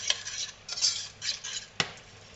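Parmesan risotto stirred in a pan over low heat, a spoon scraping and clinking against the metal in several quick strokes, close and fairly quiet, with no talking.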